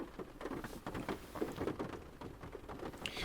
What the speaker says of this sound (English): It's raining here a lot.